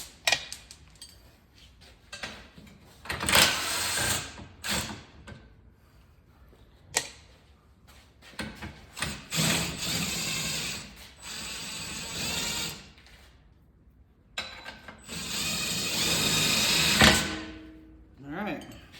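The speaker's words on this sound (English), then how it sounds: "now we'll take out these lower 18 millimeters" Ratchet wrench removing the lower 18 mm strut bolts on a 2011-2019 Dodge Journey, giving bursts of rapid clicking and metallic rattling in several short runs, fairly close.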